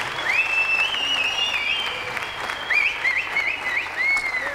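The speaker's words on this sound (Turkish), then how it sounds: "Alkış, alkış." Guests at a Turkish wedding clap steadily in a hall while a high, wavering instrumental melody plays over the applause, which stays fairly loud throughout.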